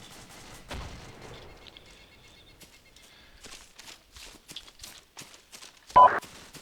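Gunfire crackles through an Arma video game battle around a town, with scattered sharp shots and distant pops and one louder close burst near the end.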